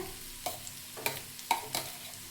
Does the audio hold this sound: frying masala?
yes